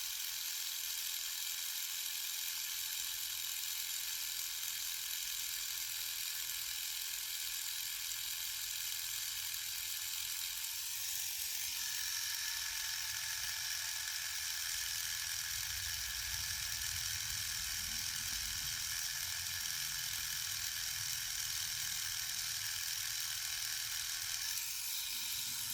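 Continuous high, hissy whir of a Dspiae reciprocating sander sanding, steady and close throughout with a slight change in tone partway through, no talking.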